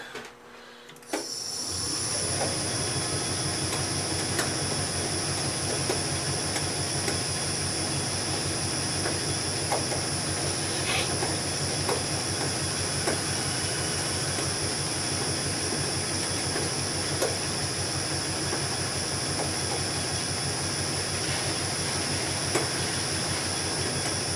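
Metal lathe turning at 500 RPM while making an ER-32 tailstock chuck, with a loud, steady mechanical hum and high whine that runs continuously after it spins up in the first second, with faint ticks scattered through.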